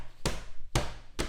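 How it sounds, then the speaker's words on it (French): Street roadworks with a jackhammer: three loud, sharp impacts spaced about half a second apart, each a broad burst with a low thump. "travaux dans la rue, il y a un marteau piqueur."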